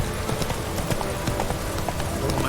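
Hooves of the horse Roach clip-clop at a steady gallop in The Witcher 3, a continuous rapid rhythm of close, fairly loud footfalls over ambient game sound.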